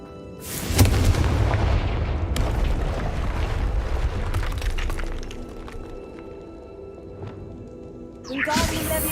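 A Confringo spell explosion in Hogwarts Legacy, a loud booming blast with shattering debris that rumbles and slowly fades, then a second burst near the end, heard up close.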